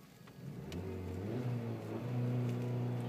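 A 2012 Ford Focus Titanium engine revs steadily near a 3,400–3,500 RPM limiter, holding a sustained droning tone that rises slightly toward the end, with no speech.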